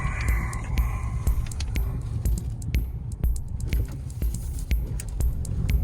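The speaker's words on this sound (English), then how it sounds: "This new engine sounds pretty nice." Inside a 2020 Nissan Frontier SV 4x4 crew cab with a V6, a low, steady engine hum and road rumble carry on while driving, with light rattles and ticks over it and no talk.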